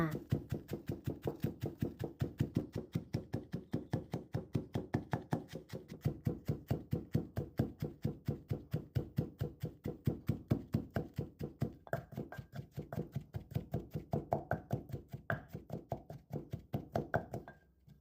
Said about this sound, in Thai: แล้วก็ตำทุกอย่างให้เข้ากัน